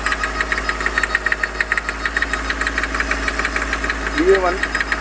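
A Hyundai Xcent engine with a faulty injector runs with a steady, rapid ticking knock over its idle hum, heard up close with a brief voice-like sound near the end.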